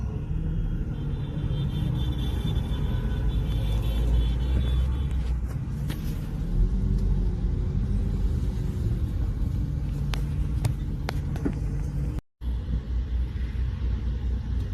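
A truck carrying people from the north rumbles with a steady, loud, low engine drone that continues throughout. A few faint clanks sound over it, and there is one brief dropout near the end.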